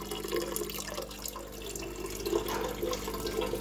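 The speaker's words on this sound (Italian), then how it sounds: "andiamo a versare la nostra acqua" Water poured into a vessel for growing phytoplankton, a steady, fairly loud splashing, gurgling stream close by that runs continuously with slight swells, with no talking.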